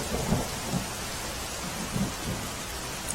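Heavy early-morning rain pours steadily in Palanpur, a dense hiss of drops striking surfaces, with soft low rumbles of thunder swelling beneath it.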